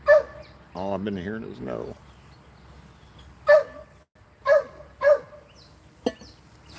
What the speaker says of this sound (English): Let me go see why she's barking.